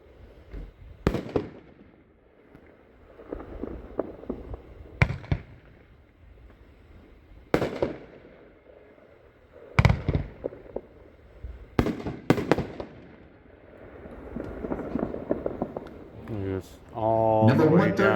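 Mother of All Bombs aerial shells at a fireworks display boom one by one with spaced loud reports and crackle, while people talk excitedly throughout and a voice grows louder near the end.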